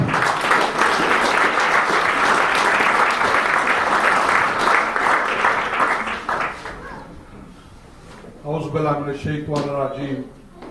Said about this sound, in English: So please, a big round of applause for Imran Hussain.